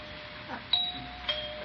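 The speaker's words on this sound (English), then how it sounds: "Oh, why does he ring the doorbell after I left him that note?" A doorbell rings twice with clear electronic ding tones about half a second apart, over a quiet steady hum.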